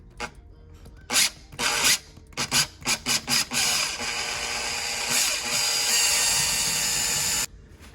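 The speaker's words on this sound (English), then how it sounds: "Drill on your mark." A power drill whirs in several short bursts while drilling into drywall, then runs steadily for a few seconds before stopping, loud and close.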